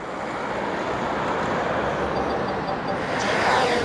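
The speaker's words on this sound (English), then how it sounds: "it is quite windy" Strong wind blowing outdoors near a fire station, a steady broadband rush with gusty swells, rising toward the end.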